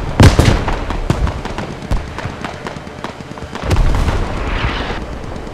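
Artillery fire in the Squad Middle East Escalation mod, a military video game: a loud sequence of booming blasts and sharp cracks, a cluster at the start and another heavy burst near the end, with a faint voice in the background.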